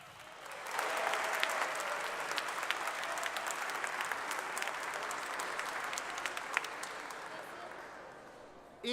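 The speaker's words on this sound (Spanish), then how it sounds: "Aplausos para ustedes." A lecture audience at the Congreso Futuro science congress breaks into applause, a dense, even wash of clapping that swells quickly and holds steady for several seconds before a brief sound at the very end.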